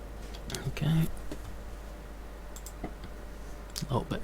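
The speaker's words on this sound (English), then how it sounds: "mouse clicking and things like that for you as well." Computer mouse clicks while driving at night in Euro Truck Simulator 2, a few soft, close clicks scattered between quiet murmured speech over a low steady hum.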